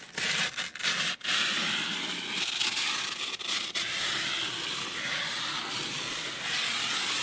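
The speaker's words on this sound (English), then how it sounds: "first get all of this powder off of the trays. So we'll just start scraping." Dried powder is scraped off trays at close range, a continuous rough rasping and hissing with a few sharper scratches early on, no voices.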